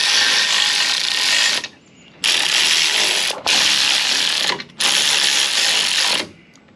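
A ratchet tightens bumper spacer bolts on a 2014-2019 Sierra/Silverado pickup in four long, rapid clicking runs separated by short pauses, close and fairly loud with no speech.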